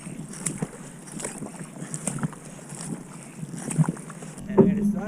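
A boat paddled steadily at an easy, moderate effort on open water, with soft repeated stroke splashes and water wash under constant wind noise on the microphone, a louder splash near the end.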